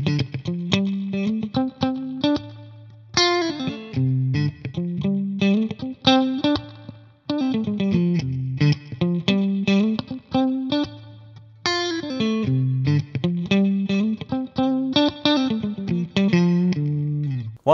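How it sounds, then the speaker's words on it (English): Electric guitar played through a Wampler Faux spring reverb pedal, chords and single notes ringing out with a drippy, splashy tail, steady and fairly loud with no talking. "Wampler Faux spring reverb."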